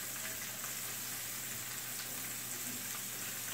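Coated fish fries in a pan of hot oil, a steady, even sizzle with fine crackling that continues unbroken throughout, fairly quiet and close.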